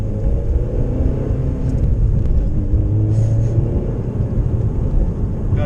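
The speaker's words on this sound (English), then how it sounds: "this car is pretty smooth. You get a lot of engine noise" Steady low engine drone from inside a 9th-generation Honda Civic Si HFP while driving, a constant rumble with faint road noise and no clear revving.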